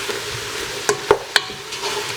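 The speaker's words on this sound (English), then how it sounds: "Give that a stir" A spoon stirs vegetable soup in a pot, giving three sharp clinks against the metal over a soft simmering hiss, close and with no talking.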